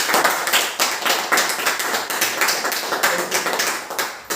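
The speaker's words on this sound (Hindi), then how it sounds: "राजकुमार जी के लिए एक जोरदार तालियां।" Audience applauding Rajkumar ji at a Happy Health India event, with a steady, dense patter of many hand claps from a nearby crowd, continuous and loud throughout.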